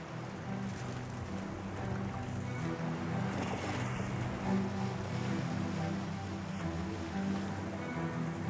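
A homemade sailboat rides the open sea, with continuous rushing water and wave wash against the hull over a low rumbling drone, steady and moderately loud for the whole stretch.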